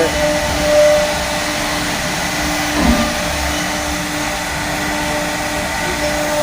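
CNC machines run in a workshop with a constant loud whirring hum and steady tonal whine, broken by a brief clunk partway through.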